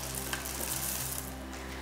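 Dry cereal poured into a pot of melted chocolate and stirred, giving a steady soft sizzling, rustling texture that continues for a couple of seconds, with a brief louder scrape right at the end.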